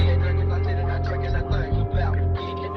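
A music sample pitched up two semitones and sped to 140 BPM for a beat, playing loud and continuous with deep bass pulses and dense tonal layers that briefly cut out near the end.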